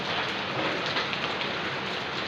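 Steady, dense rainfall pattering continuously on a surface at a house construction site, a broad even hiss with no voices.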